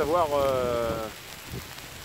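Steady outdoor rain makes an even, close hiss throughout, and a voice is briefly heard over it at the start.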